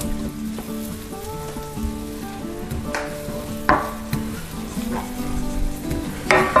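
Onions sweat in a pan as a first step for mussels in white wine, a soft steady sizzle under scattered clinks and knocks of utensils, close and moderately loud with no talking.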